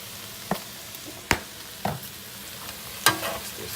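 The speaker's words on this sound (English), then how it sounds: "One last good stir." Vegan soy chorizo being given a last stir in a pan, sounding as four short scraping strokes against a quiet, faint sizzle.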